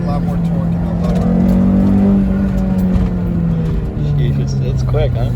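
Honda S2000 with a swapped F20C engine and AP2 transmission pulling hard uphill, a loud steady rising engine note heard from inside the cabin while people talk over it.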